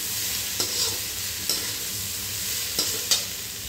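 Spices, coriander and cumin powder, being stirred into tofu curry in a frying pan: steady soft sizzling with a few sharp spoon scrapes and taps against the pan, close and alone.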